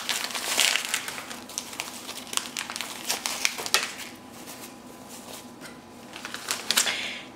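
A small pink cosmetic bag is opened and rummaged through nearby, with crinkly rustling of plastic packets, light taps and shuffling handling noises coming in irregular bursts.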